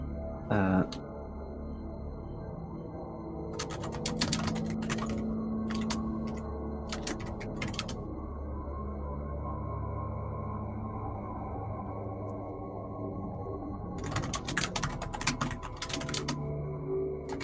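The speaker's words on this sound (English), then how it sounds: "Furiously typing." Bursts of rapid keystrokes on a computer keyboard come in clusters, separated by quieter stretches over a steady background hum during a tabletop D&D session.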